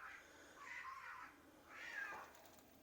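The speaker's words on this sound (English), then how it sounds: "Cats are having disagreement." Two quiet, drawn-out cat yowls, a cat fight heard close by in a quiet setting. The wails rise and fall, each lasting close to a second, with a short gap between them.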